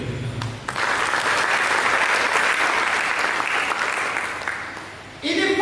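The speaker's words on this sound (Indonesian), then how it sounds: "Mari kita berikan tepuk tangan" A church congregation breaks into applause during a sermon: after a brief spoken lead-in, thick, steady clapping fills the space for several seconds, then fades and talk resumes.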